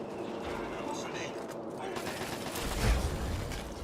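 Gunfire from a Fallout 3 fight against giant spiders, a sentry bot among the shooters: a steady, rattling rush of rapid shots and mechanical clatter, swelling louder toward the end.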